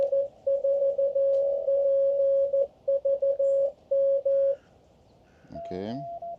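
A ham radio operator sends a Morse code CW call sign: a steady pure-tone sidetone keyed in short and long elements, loud and close, followed by a brief rising chirpy burst at the end.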